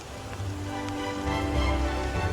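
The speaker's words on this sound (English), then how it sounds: "Just as we headed out, soaking up our last moments in Český Krumlov, the rain started falling again." Rain falling outdoors in Český Krumlov, a steady soft wash of drops on surfaces with a low rumble of the town beneath, continuous and fairly close, no voices.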